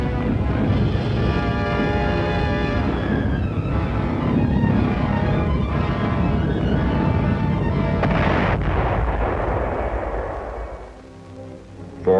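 Anti-aircraft guns firing against V-1 flying bombs over Antwerp, a dense, continuous rumble of heavy booms and blasts with a sharper burst near the end, fading out as the clip closes.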